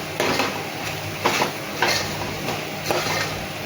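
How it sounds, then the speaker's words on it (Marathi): A spoon stirs spices and vegetables through pulao or biryani in a metal pot, giving repeated scraping, clattering strokes about every half second over a steady low hum, close and fairly loud. "सर्व मसाले छान मिक्स करून घेऊया आणि याला सर्व मिक्स करून घेऊया"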